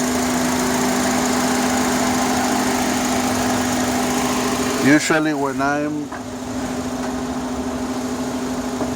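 An idling Honda Accord engine gives a steady, close humming buzz with a constant drone, and a person briefly talks over it midway.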